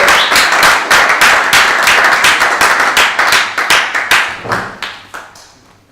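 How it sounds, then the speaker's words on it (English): An audience at an auctioneering competition claps loudly and rapidly, the sharp individual claps thinning out and fading over several seconds. "please give a round of applause to Michael Wood from Marshall White."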